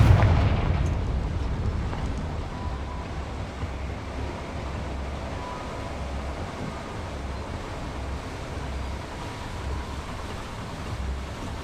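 Confringo blasting spell detonating in the video game Hogwarts Legacy, a loud explosive burst at the start that settles into a long, heavy rumbling roar, with no talking.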